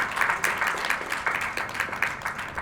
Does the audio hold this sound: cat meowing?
no